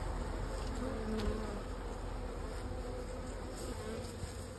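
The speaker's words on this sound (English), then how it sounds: "We'll drive the bees down a little bit." Honey bees buzz around an opened hive, a dense, continuous droning hum with no pauses, close and steady for the whole stretch.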